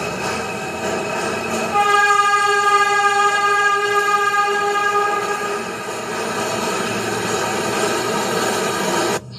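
MTA subway train horn sounding a long, steady, loud tonal blast close by for most of the stretch, over the rumble of the train, cutting off abruptly at the end.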